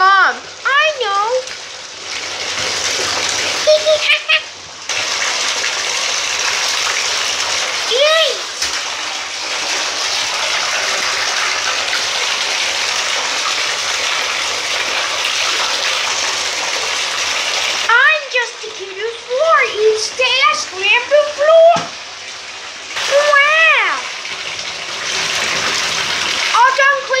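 Water gushes steadily into a bathtub for a long stretch, a loud close rush with some splashing, while a high childlike voice talks over it at intervals.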